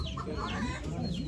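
Rooster clucking briefly at a poultry auction in Ankara, a few short clucks over a dense, noisy crowd background.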